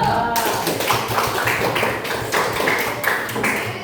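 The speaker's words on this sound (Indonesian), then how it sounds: "Beri aplaus untuk kelompok 1." A classroom of students applauds group 1 during a practice teaching lesson, steady crowded clapping throughout, loud and close with no speech.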